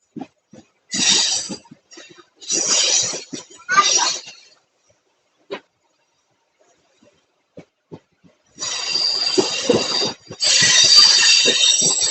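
A MEMU electric passenger train between Erode and Coimbatore rumbles and hisses in bursts, with broadband rushing noise swelling and fading, then a sustained louder stretch of rolling rail noise near the end.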